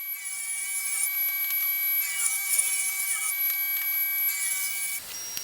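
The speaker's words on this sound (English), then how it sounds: "get it on the table saw to cut it down to the final" A table saw rips wood boards to width with a steady, bright, high-pitched whine that holds throughout. The cut cuts off abruptly near the end.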